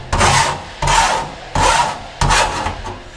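A file rasps along the freshly cut metal edges of a skylight opening in a camper van roof, taking off the burrs: four loud, even strokes about a second apart, close up, with no voices.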